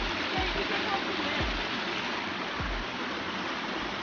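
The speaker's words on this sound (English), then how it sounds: "Waterfall!" Water pours steadily from a waterfall inside a cave, a constant broadband rush that fills the space, with a few brief low thumps.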